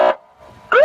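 Short bursts of a wailing police siren behind a motorcycle, rising in pitch, loud and close, separated by a brief quieter gap.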